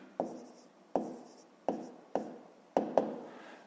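A pen or pencil is tapped or pressed down on paper in short, sharp strokes, about six of them at an uneven pace, close and quiet. This is handwriting while working a fifth-grade math exercise.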